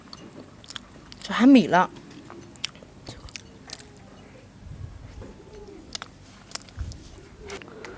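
Close chewing and biting of bread spread with homemade apricot jam, soft moist crunches scattered across the moment, with a brief spoken remark and light room noise.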